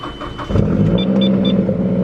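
A car engine turns over and starts, a rising rumble after a brief quieter moment, then a steady close idle with a few faint high chimes on top.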